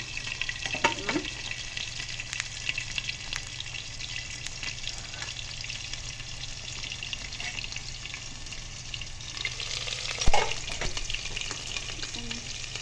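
Pointed gourd curry fries in a pan with a steady, close sizzle that runs throughout, broken by a brief sharp clink of a utensil just past the ten-second mark.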